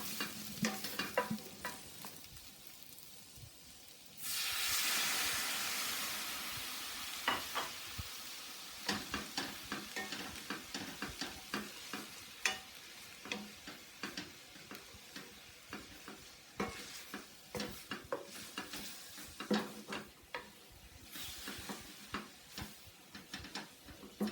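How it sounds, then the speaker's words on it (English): Onions sautéing without oil sizzle in a pan, then water hits with a loud sustained hiss; afterward steady stirring scrapes and ticks continue over a softer bubbling simmer, close and without talk. "Add water to pull up the caramelization and repeat the process until all of the brown is pulled onto the onions"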